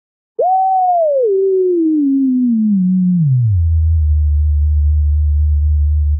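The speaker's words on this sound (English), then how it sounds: "And if you get the sine wave way low," Low sine wave from a Chrome Music Lab oscillator, sweeping downward from a mid tone into a deep, steady 808-style bass hum that sustains loudly and alone.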